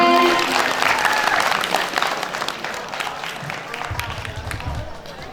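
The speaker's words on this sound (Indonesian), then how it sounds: "Tepuk tangan semuanya." Applause from an audience at a school closing ceremony for SMAN 1 Banjaran's SMARTREN 2022 program, dense and steady clapping that starts loud and slowly thins, with voices mixed into the crowd noise.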